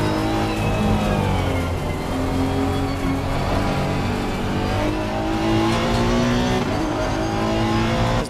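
A racing car engine on a bonnet-cam lap in the sim-racing game Automobilista 2 or Assetto Corsa Competizione, revving steadily and loud with rising and falling gear pitches, alone without talk.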